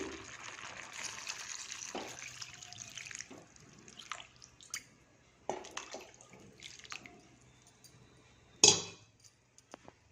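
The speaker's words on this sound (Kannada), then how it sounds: "ಇವಾಗ ನೀರು ಹಾಕ್ತೀನಿ" Water poured into a pot of Sona Masoori rice for pulao, three measures of water to one of rice, with dripping, splashing and a few clinks, fairly quiet, ending with a sharp knock.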